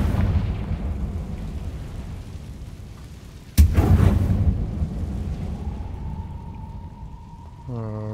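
Confringo spell explosion in Hogwarts Legacy: a sudden loud blast with a rumbling tail rises over a steady rain-like ambient wash, followed later by a rising magical tone.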